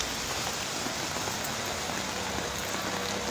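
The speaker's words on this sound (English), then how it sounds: "Though it's raining" Steady rain falls on an Onitsha street on a quiet morning, a dense, even hiss with no breaks, fairly close and filling the whole scene, with no talk over it.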